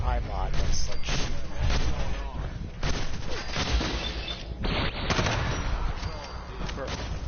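A robot opens fire in Fallout 4's Nuka-World, dense continuous gunfire and booming shots filling the whole stretch, loud and close, with a player talking over the shooting.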